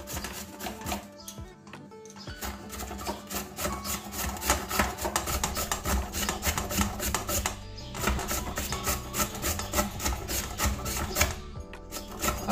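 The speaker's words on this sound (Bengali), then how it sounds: "এবারে এই যে একটা ঘষুনি নিয়েছি, এটার মধ্যে আমি ঘষে নেব" A washed raw papaya is rubbed against a large hand grater in fast, continuous rasping strokes, close and steady with only brief pauses, no talking over it.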